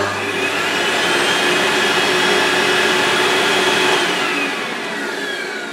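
A Goblin Aztec 1300E vacuum cleaner runs close by with a loud, steady whirring roar that holds evenly, then eases slightly toward the end, with no talking.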